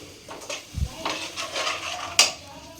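Mushroom manchurian stirred in a pan with soy sauce and vinegar: a few close scraping and clinking strokes of a utensil against metal, ending in a sharp clack.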